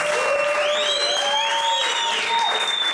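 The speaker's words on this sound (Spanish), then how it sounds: "este es un gran aplauso" An audience gives a big round of applause to the musicians at a live Latin music show. The clapping is loud, dense and sustained, with voices and whistles or cheers rising above it throughout.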